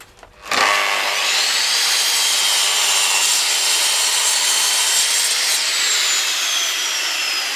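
A Bosch GCM 8 SJL miter saw cuts through thick, dense redwood decking lumber in one steady, loud, continuous pass after a quick spin-up, with no talk.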